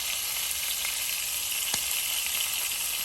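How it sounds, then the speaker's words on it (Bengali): Puti fish fry in a pan, a steady close hiss of sizzling oil with a few faint ticks and one sharp clink. "আর মাছ ভাজছিলাম বোঝা যাবে"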